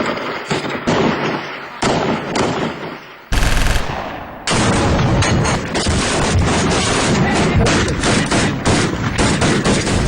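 Dense automatic gunfire rattles loudly on a battlefield where YPJ women fighters battle ISIS, with sustained bursts, a brief heavy blast in the middle, then a continuous barrage of close shots.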